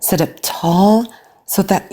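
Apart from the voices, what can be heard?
No distinct noise like a dog, phone or traffic.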